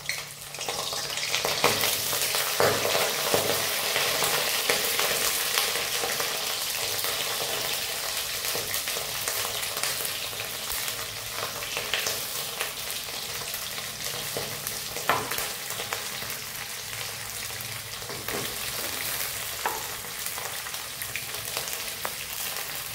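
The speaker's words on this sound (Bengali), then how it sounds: "এর মধ্যে এবার কপিগুলো দেব। কপিটা আগে ভেজে নেব।" Cauliflower pieces frying in hot oil over lowered flame, a steady dense crackling sizzle that holds evenly throughout with occasional stirring scrapes.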